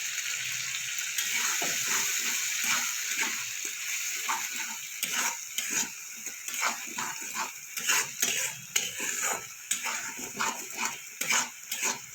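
A spoon stirs a thick curry with poppy seed, sesame and green chilli paste in a pan, with rhythmic wet scrapes and soft sizzling that grow busier toward the end, no talking.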